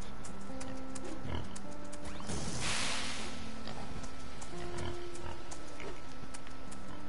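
Pigs in the game Farm Together grunt and oink intermittently over a steady electronic hum, with a burst of noise midway; the sounds seem synthetic, like game audio.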